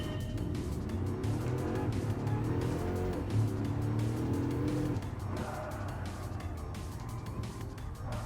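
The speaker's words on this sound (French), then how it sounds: "Ah là le bruit du moteur il est fabuleux." Racing car in Gran Turismo Sport with a loud, sustained engine roar that rises and falls through gear changes, with tire squeal as it corners, continuous and close.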